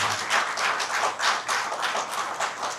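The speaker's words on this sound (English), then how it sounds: "Please, a round of applause." Audience applause at a product launch event, a moderate patter of clapping with uneven rhythmic bursts, fairly close and without talk.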